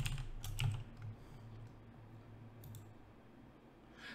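Quiet keyboard typing on a computer as a program name is entered, a short burst of close clicks at the start and a few scattered key taps afterward, faint and alone.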